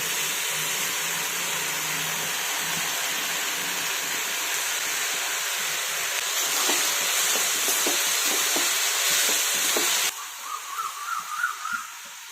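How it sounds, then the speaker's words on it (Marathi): Dal and chopped spring onion are stir-fried in a pan with a constant close hiss and sizzle under scraping spatula strokes, until the frying drops away abruptly near the end, leaving a faint whistling tone. "मग डाळ छान परतून झाली की याच्यामध्ये आपण चिरलेली कांदापात टाकून घेऊयात सर्व."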